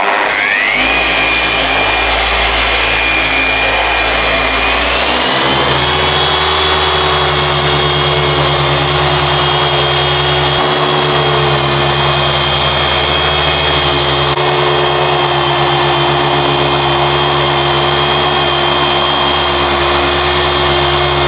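A car polisher runs continuously on BMW paint with a Meguiar's microfiber cutting pad, a loud close whirring drone that shifts pitch early on and then holds steady throughout.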